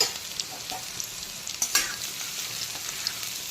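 Potatoes frying in hot oil, giving a close, steady sizzle and bubbling broken by a few sharp clicks and scrapes from a spoon or ladle stirring or lifting them.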